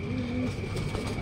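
Pigeons cooing at a loft, a soft steady murmur of low coos running through the whole stretch over a constant background hum.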